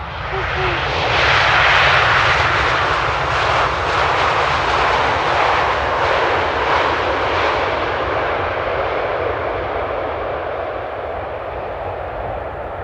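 An airplane landing at Amsterdam Airport sends a loud, sustained engine roar that swells early and then slowly fades as it passes, filling the scene close by.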